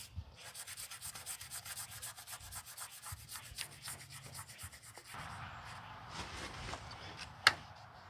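Buffing with polishing compound to clean up repaired parts of a Carver boat swim platform, a steady close rubbing and swishing that runs throughout with small knocks, shifting in tone near the end with a brief sharp tap.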